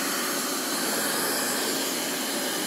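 A Roidmi Miro hair dryer runs at its highest speed, giving a steady, loud broadband whoosh of rushing air that holds even throughout, close to the microphone with no talking.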